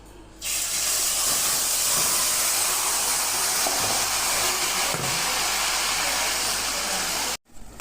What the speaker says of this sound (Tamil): இதே நெய்யில் நம்ம பூசணிக்காவை வதக்கி எடுத்துக்கலாம்.